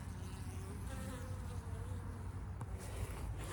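A swarm of bees buzzes steadily in a Pacific Northwest garden in mid-May, a dense continuous drone close by with no speech over it.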